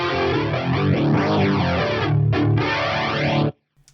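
An electric guitar run through a Yamaha GEP 50 effects unit with distortion and symphonic chorus both at full, a thick swirling distorted chord held loud and close, a brief dip near the end, then cut off abruptly into silence.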